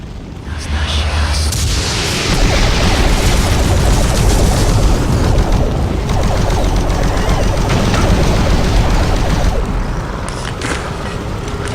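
Sustained gunfire from a weapon in the PC game Doom 3, a dense steady barrage of shots lasting throughout without pause, loud and close.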